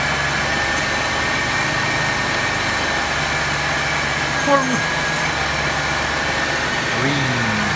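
A 1994 Buick Regal engine idles steadily with a low hum while a person talks, and the idle pitch shifts slightly partway through.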